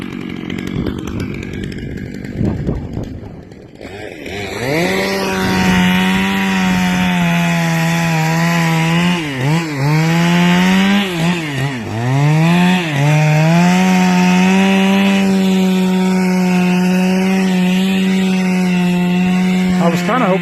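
A chainsaw cuts through wood outdoors with a loud, sustained buzzing whine. The engine pitch dips and recovers a few times as the chain bogs into the cut, then holds steady near the listener.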